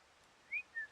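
Two short, clear whistled notes in quick succession from a person during a game stream, the first slightly rising and the second a steady pitch, faint and alone against quiet background.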